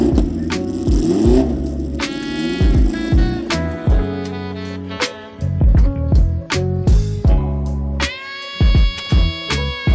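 A Porsche 908 with a 3-liter flat-eight engine revving hard toward high rpm, a series of sharp, high-pitched wails and blips that rise and drop in quick succession, loud and close.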